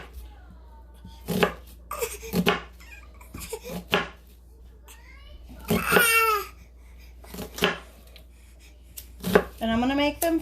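A knife chopping onion on a cutting board, a series of sharp separate knocks with irregular pauses and a quicker burst, with a voice and some laughter heard between the cuts.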